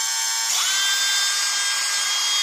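A Parkside X12V Performance brushless cordless screwdriver spins up its bit after a quiet moment, settling into a loud, steady high-pitched motor whine that holds to the end.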